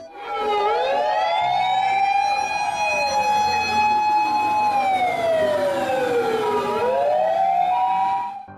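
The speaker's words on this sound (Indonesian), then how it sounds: "Di sini ada mobil pemadam kebakaran." A toy fire truck siren wails loudly and continuously, rising and falling in long sweeping tones with a steady electronic pitch throughout.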